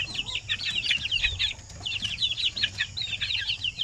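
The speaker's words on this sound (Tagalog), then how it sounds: "So yan yung ating mga basilan na mga sisiw." Basilan chicken chicks about 45 days old peep in a dense, continuous chorus of high chirps, close by, with faint rustling underneath.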